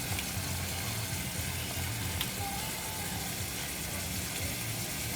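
Chili paste sizzles in a pan as a little water is poured in and stirred, while making a yellow noodle stir-fry with gravy (mee goreng basah). A faint, steady hiss and watery fizz run throughout, with no talking.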